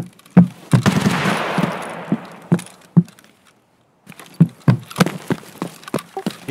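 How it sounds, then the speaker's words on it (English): Video game gunfire shot into the air, a series of distinct sharp reports at uneven intervals, a first cluster followed by a brief lull and then another run of shots, fairly close and loud. "It is just firing in the air because they're lost."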